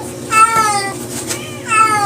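Cats meow in a room of a home where sawdust serves as cheap cat litter. Two or three close, drawn-out meows come in quick succession with faint background noise between them.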